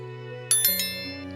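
A notification bell effect rings three quick bright dings in succession over a sustained electronic tone, ending with a short musical flourish.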